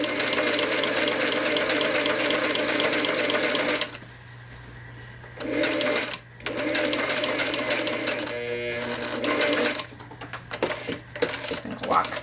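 A sewing machine stitches a hem in knit fabric with twin needles, running in loud, steady whirring bursts with brief pauses between stretches of sewing, close to the machine.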